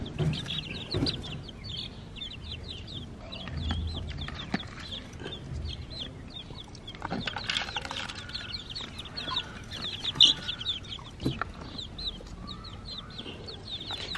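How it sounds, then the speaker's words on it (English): Hen with seven chicks under her at roost, clucking softly among the high peeping of the chicks, with faint rustling and scattered brief calls throughout. "There are seven chicks hiding underneath her, and she could barely raise her head."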